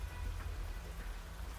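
Steady, soft rainfall in a video game hissing evenly with a low rumble underneath, continuous and unbroken, no voices.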